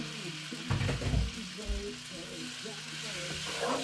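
Drained pasta hits a hot pan of bacon and its juices, giving a loud burst of sizzling and clattering stirring that settles into steady frying hiss, with faint background voices.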